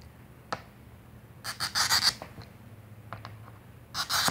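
Glass cutter scoring stained glass pieces during a repair, heard as a few short scratchy scrapes and ticks at close range, with quiet gaps between the strokes and no talking.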